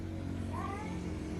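A cat gives a single short meow partway through, close but fairly soft, over steady low background noise.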